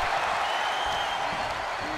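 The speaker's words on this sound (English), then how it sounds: "God, the crowd is loud." Roaring wrestling arena crowd in the video game WWE 2K23, a steady loud wash of cheering and applause with no break throughout.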